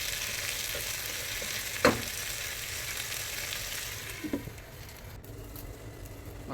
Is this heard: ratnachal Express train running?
no